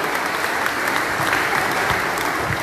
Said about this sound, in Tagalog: Kaya po diyan po natin sila ng malakas na palakpak.